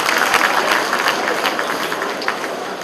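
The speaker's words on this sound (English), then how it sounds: "I know you are clapping" Applause from an audience at an induction ceremony for new members, a dense, steady patter of many hands clapping that holds evenly throughout and fades slightly toward the end, with no talking over it.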